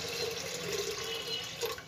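Water running steadily into a pressure cooker holding dal with turmeric, a soft continuous trickle and splash close by, with no talking.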